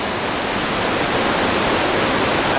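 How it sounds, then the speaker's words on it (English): Small waterfalls in Partnach Gorge give a steady, dense rush of falling water, constant and fairly loud with no other sounds. "There's a lot of those little tiny waterfalls there."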